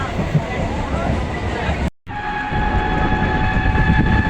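A train rolls along with a loud, steady mechanical rumble and rattle, near Madanpur station. The noise drops out briefly partway through, then resumes at full strength with a sustained tonal hum.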